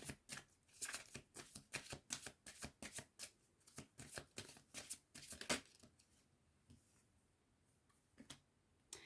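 A deck of cards is handled and shuffled for a card reading: a quick run of crisp riffling bursts, close and distinct, then a few quieter taps as the shuffling stops.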